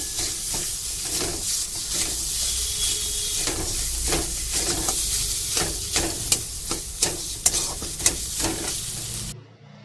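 Boiled potatoes hit a pan of fried spice mix for a Bengali bread cutlet filling, sizzling loudly and steadily while a spatula scrapes and stirs with repeated clacks against the pan.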